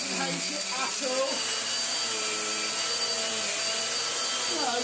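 An Electrolux vacuum cleaner runs steadily on a rug with a constant high whine and rumble, while people talk over it.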